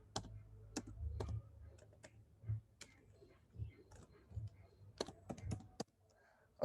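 Computer keyboard typing code, bursts of crisp close key clicks in irregular clusters with short pauses between, fairly quiet, no talking over it.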